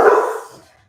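One sharp, close bark from a dog at home, loud at first and then fading quickly into silence.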